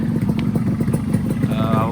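A Yamaha RX135 two-stroke motorcycle engine running nearby with a steady, throaty pulsing drone and light mechanical clatter, fairly loud and continuous over a short stretch.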